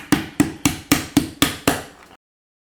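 A meat mallet's smooth side pounds picanha steak thin for cheesesteak, seven sharp, evenly spaced thuds close by, each fading quickly before the next, ending in silence.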